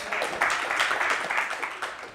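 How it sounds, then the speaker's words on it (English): Audience applause for Clover, an adopted dog featured by the Helping Hands Humane Society, with steady dense clapping filling the room and rising slightly partway through before easing off. "Clover needs some applause."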